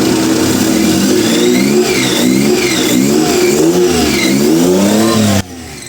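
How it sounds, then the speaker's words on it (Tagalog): Car engine running loud and close, a rusty pulley making its drive belt noisy, with a wavering, squealing whine riding over the engine drone until it drops off abruptly near the end. "Medyo maingay ng kanyang belt kasi kinalawang ang kanyang pulley eh."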